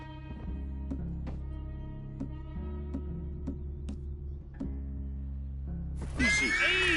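Horses in Red Dead Redemption 2 whinny and neigh near the listener over a steady low rumble, with short ticking steps throughout and a louder, brighter neigh bursting in at the end.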